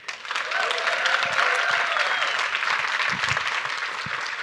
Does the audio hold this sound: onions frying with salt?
no